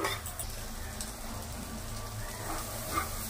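Ground spices with turmeric, chilli powder and salt frying in a pan for a prawn malai curry, giving a steady, dense sizzle that runs evenly throughout with no talking.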